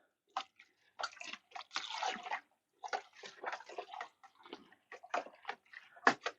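Turbo yeast being stirred into liquid in a home-distilling fermenter gives close, intermittent sloshing swirls and light clinks in irregular bursts, quiet against silence.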